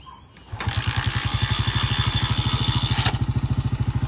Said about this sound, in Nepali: बाइक स्टार्ट भएपछि अफ हुँदैन